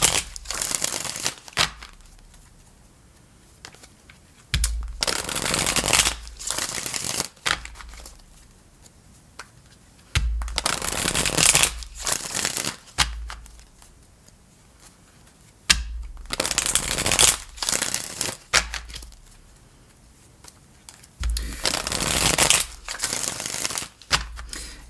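A deck of tarot cards is shuffled in a steady pattern, with about eight close, crisp bursts of riffling and flapping cards separated by short quiet pauses.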